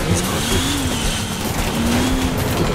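BMW M3 in GTA, the engine droning at high revs with a wavering pitch and tire noise underneath, loud and continuous with no pauses.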